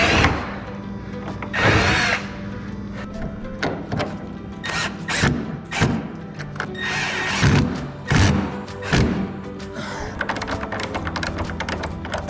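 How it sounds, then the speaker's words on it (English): A 12-volt cordless drill backing screws out of a Whirlpool refrigerator door hinge, with repeated short whirring bursts. Clunks and handling knocks fall between them, all close and fairly loud. "My 12-volt drill is barely strong enough to get these screws out."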